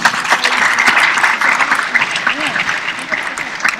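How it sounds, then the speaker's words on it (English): Audience applause at a Model UN opening ceremony in a large hall, steady mass clapping with scattered cheers and voices mixed through it. "Another applause, please."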